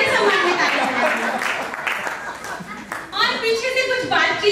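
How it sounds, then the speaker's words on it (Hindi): An audience at a Hindi poetry gathering claps in honour of a poet, a brief round of applause that rises again near the end while voices talk over it. "एक बार उनके सम्मान में ताली बजाइए।"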